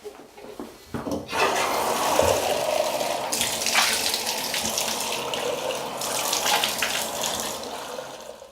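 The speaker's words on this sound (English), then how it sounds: "now we're going to rinse with water and test it" Water gushes steadily from a tap to rinse a bathtub treated with a nano-grip coating, a continuous close splashing rush after a brief clatter at the start.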